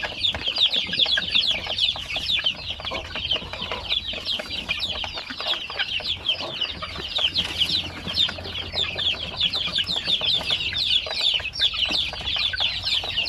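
A flock of young chicks, some about a month old, housed together in a shared coop, peeping and clucking continuously and loudly before their midday feeding, a dense steady chorus with occasional wing flaps.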